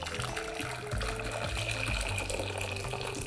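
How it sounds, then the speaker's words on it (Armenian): Boiled water pours steadily into a pot with a continuous splashing rush, close and fairly loud, running the whole time without pause. "Լցնում ենք եռացրած ջուր,"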